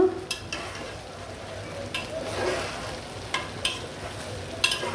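Biryani rice with boiled small potatoes and dried chilies being stirred and fried in a pot, soft sizzling under intermittent scrapes and clacks of a spoon against the pan.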